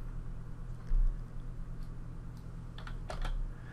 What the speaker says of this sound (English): drag across the numbers and type what you want and press Enter